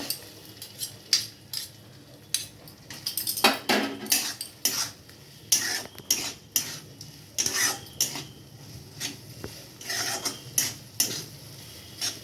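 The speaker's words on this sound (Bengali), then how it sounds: "সমস্ত উপকরণটা আমি এবার খুব ভালো করে মিশিয়ে নেব" A spoon mixes boiled pasta with mayonnaise and other ingredients in a bowl, giving repeated close clinks and scrapes against the dish in an uneven rhythm, with no talking.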